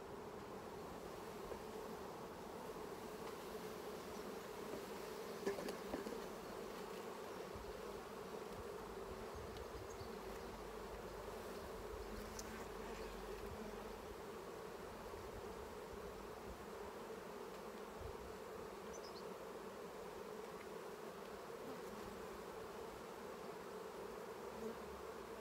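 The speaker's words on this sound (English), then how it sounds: "I am feeling pretty happy with this hive, it's looking good" Honeybees buzz around an open hive during an inspection, a steady, quiet, continuous hum with no talk.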